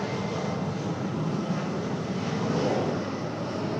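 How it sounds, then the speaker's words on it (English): A Delta Airbus A321 jet landing at Raleigh-Durham airport after flying in from Atlanta, a steady broad engine roar, moderately loud and distant, holding constant throughout with no talking. "Delta 1518, that A321 flying in from Atlanta"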